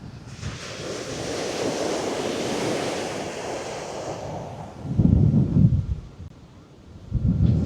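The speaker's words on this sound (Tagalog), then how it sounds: "Dahil sobrang lakas ng hangin." Strong wind roars and buffets the microphone on the coast of Ilocos Norte, Philippines, with surf rushing in the background and heavier gusts thumping toward the end.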